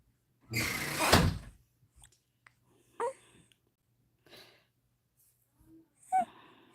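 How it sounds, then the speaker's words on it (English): A door closes with a long sliding rush followed by a few quieter knocks and faint breathy noises in a quiet indoor room. "Close my door."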